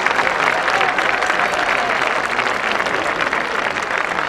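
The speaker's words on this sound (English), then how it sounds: "Come on everyone, give them a wee cheer." Spectators at the Braemar Gathering cheer and applaud a 100-yard youth race heat, a dense, steady wash of crowd noise and clapping held at a constant loudness throughout.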